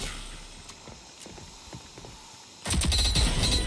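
SMG gunfire in the shooter game Rogue Company breaks out as a sudden loud rapid burst near the end, after a quieter stretch of scattered footsteps and clicks.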